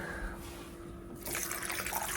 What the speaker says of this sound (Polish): I co, dodajemy wody, tak jak powiedzieliśmy.